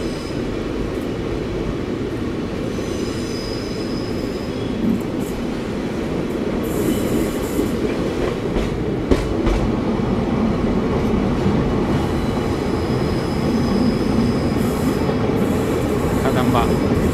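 Night Queen Express passenger train running between Bengaluru and Mandya, heard from on board: a steady, loud rumble of wheels and carriages with occasional squeals and clicks, continuous throughout with no talking.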